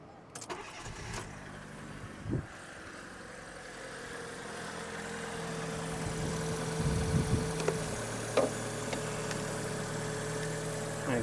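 A car engine turns over after a jump start and settles into a steady, fairly quiet idle, with a few brief knocks and clicks along the way.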